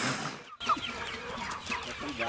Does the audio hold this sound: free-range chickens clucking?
yes